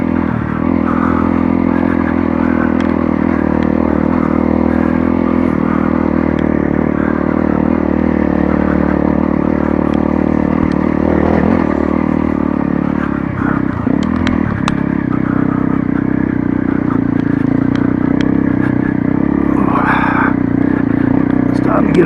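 A motorcycle engine droning steadily in low first gear on a steep off-road climb, loud and close for the whole stretch with a brief dip and rev midway, wind buffeting and a rider talking throughout.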